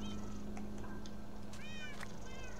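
A Minecraft cat meows several times, short rising-falling mews spaced across the moment over a constant low hum and background noise, moderately loud.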